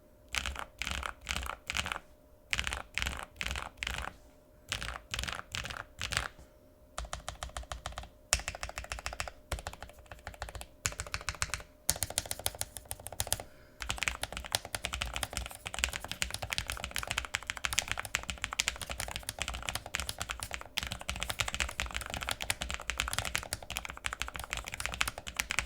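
Typing on a Lofree Edge low-profile mechanical keyboard, close and steady: bursts of soft clacking keystrokes with short pauses, then a denser, continuous run of fast typing, with no talk.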